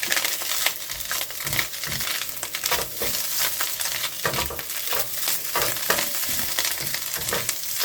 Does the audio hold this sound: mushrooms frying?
yes